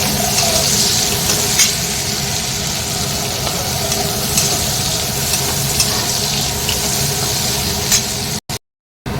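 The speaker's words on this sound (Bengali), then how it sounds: "পেঁয়াজটা একটু ভাজা ভাজা হয়ে যাবে" Chopped onion fries in oil in a wok, producing a loud, steady broadband sizzle that continues for several seconds before cutting off abruptly near the end.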